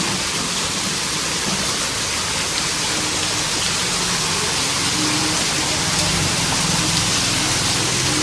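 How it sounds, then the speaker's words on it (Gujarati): Heavy rain falls on a city street in Surat, a dense, steady, loud roar of rain spread evenly across the whole stretch with no breaks. "ગમે એટલે વરસાદ પડે ને તો પાણી કાંઈ દેખાય નહીં"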